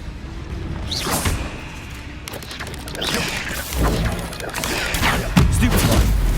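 Confringo fire-blast spells in the game Hogwarts Legacy, several booming explosive bursts spaced about a second apart, mixed with whooshing spell effects and combat clatter.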